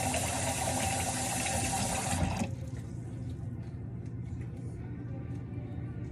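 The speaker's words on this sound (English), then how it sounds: "I'm gonna rinse these few leaves" Tap water runs steadily as leaves are rinsed for Greek meatballs, then stops abruptly partway through, leaving a quieter room hiss.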